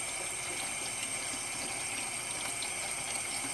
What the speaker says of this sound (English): I'm just going to wash my hands real quick.